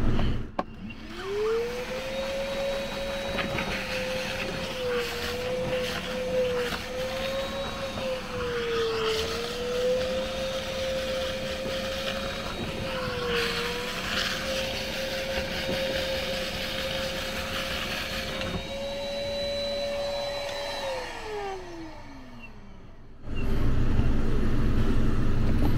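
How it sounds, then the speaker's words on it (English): A wet vacuum sucks water out of a clogged air-conditioner condensate drain, giving a steady, loud motor whine that holds for about twenty seconds before winding down, with no speech over it. "I'm just going to go ahead and vacuum out this water here."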